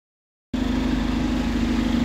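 A Stagecoach Dennis Dart bus engine idles nearby with a steady, rattly mechanical drone and a low hum, coming in abruptly after half a second of silence and holding constant to the end.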